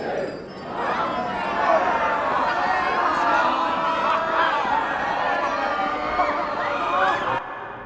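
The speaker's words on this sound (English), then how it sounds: "As you can see, there's crowds of people here" A large crowd of shoppers gathers noisily at the opening of a sale, a dense, steady wash of chatter and murmuring voices lasting throughout, with occasional raised calls above the hubbub.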